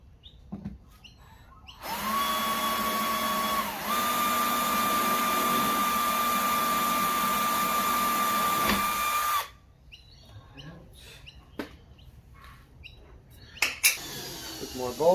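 A power drill bores a hole for fitting Seadoo jet ski stability collars, a loud steady whine held for several seconds that dips briefly partway through, followed by quieter handling clatter of parts nearby.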